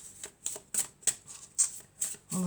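Oracle cards shuffled by hand in a series of about seven short, crisp riffling bursts with brief pauses between them, close and fairly quiet, no voices.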